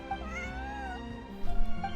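A cat in the Genshin Impact video game gives a couple of short, close meows, clear and alone over quiet background music.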